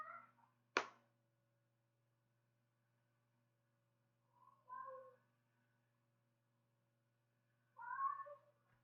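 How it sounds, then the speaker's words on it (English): A house cat meows indoors: a sharp knock, then three separate meows spaced several seconds apart, the last the loudest, over a faint steady hum. "apologies if you can hear my cat making a lot of noise"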